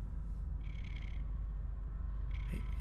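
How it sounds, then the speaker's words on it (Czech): A cat purring in the video game Poppy Playtime Chapter 3, a faint, soft rasping texture that swells in two short bursts over a low ambient background, with no talking. "Tam nějaká kočička přede"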